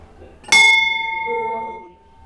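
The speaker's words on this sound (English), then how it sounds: "Oh, there's a bell." A single bright bell strike rings out clearly, its metallic tone sustaining and slowly fading over about two seconds.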